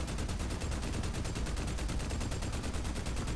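Gunfire in the Army of Two video game, a continuous rapid rattle of shots throughout, dense and steady at moderate loudness, with no talking.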